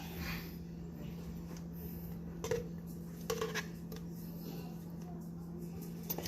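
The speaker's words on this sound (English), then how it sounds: "anything that's left in here, I want to go ahead and scoop it out" Leftover breakfast food is scooped out of a Tupperware container with a utensil, giving a few quiet scrapes and clinks against the plastic over a low steady hum.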